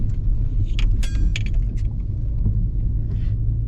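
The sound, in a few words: truck overtaking car on snowy road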